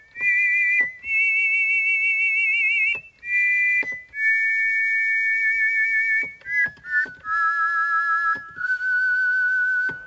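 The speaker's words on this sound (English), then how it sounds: "we can have two people whistling, but they can play two different tunes" On a Behringer Neutron paraphonic synthesizer, two whistle-like voices play together in phrases of bright, pure sliding tones with slight vibrato, split by short gaps, loud and close with no talking.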